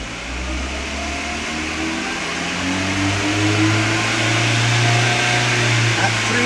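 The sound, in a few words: 2005 VW Jetta 2.0 engine revving to 3000 RPM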